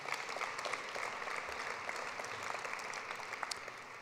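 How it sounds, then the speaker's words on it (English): An audience at a National Philanthropy Day event claps in a faint, distant, sustained applause with a few sharper individual claps standing out above the wash. "thank you for the applause"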